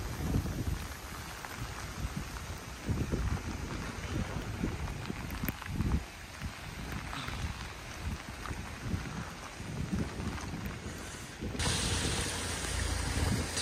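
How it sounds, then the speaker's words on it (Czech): Heavy rain and strong wind outdoors in September in Litoměřice, a dense steady hiss of rainfall with gusty wind rumbling against the microphone, loud and continuous throughout, with no talking. "Silný déšť a vítr."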